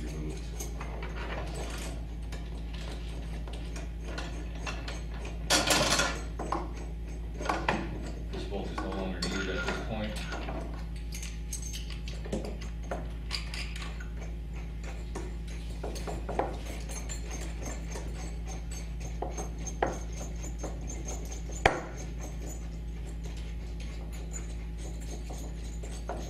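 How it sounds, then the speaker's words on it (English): A 3/4 inch wrench and socket work bolts loose from a Steinway piano crate: quiet, scattered metallic clinks and ratcheting ticks under a low room hum, with brief louder knocks. "you need a 3/4 inch wrench and socket. To do that, you need to remove these bolts."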